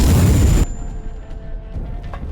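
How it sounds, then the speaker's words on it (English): In the anime Fate/strange Fake, the loud tail of an explosion booms for about half a second, then cuts off abruptly. Faint low rumbles and scattered small sounds follow. "Explosion goes off"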